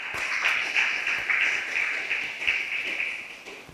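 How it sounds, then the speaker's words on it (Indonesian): Audience applause at an Indonesian Islamic scholars' legal training session, a steady wash of many hands clapping for several seconds at moderate, even loudness with no talk over it. "Tepuk tangan dong."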